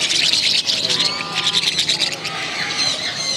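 Young ringneck parakeets in a ground bird shop give loud, shrill, repeated chirps and squawks close by, overlapping in busy bursts with quieter calls in the background.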